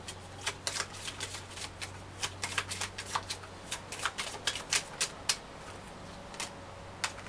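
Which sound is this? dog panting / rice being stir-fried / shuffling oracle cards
shuffling oracle cards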